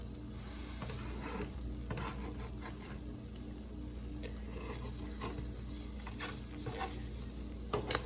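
A knife works through egg whites, probably in a pan, giving a continuous soft scraping and rasping. A few light taps sit over a low sizzling background, with a sharper knock near the end.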